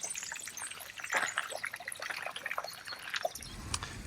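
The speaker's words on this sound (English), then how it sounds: "Soothing sounds of water." Soft water trickles and drips steadily into a koi pond, close by and quiet, with a faint low rumble entering near the end.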